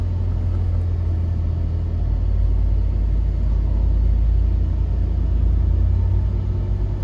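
A car drives along a road, its steady deep rumble and road noise filling the whole stretch at a constant, loud level, without talking.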